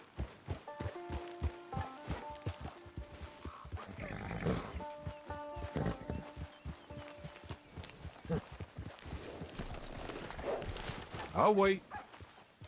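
A horse in the video game Red Dead Redemption 2 walks with steady, close clip-clopping hoofbeats while a person speaks, and a brief louder sound comes near the end.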